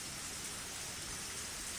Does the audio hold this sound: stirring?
no